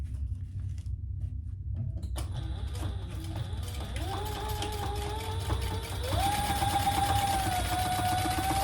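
A sewing machine top stitching bag gussets for a crossbody sling bag: a quiet start, then a steady mechanical whir that steps up in speed twice, running close and continuous to the end.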